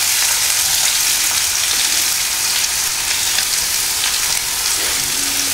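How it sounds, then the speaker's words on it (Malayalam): Onion, ginger, garlic and green chili sauté in a hot pan with a steady, loud, dense sizzle that runs unbroken the whole time, with no voices. "ആവശ്യത്തിന് ഉപ്പും ചേർത്ത് നന്നായി വഴറ്റിയെടുക്കുക"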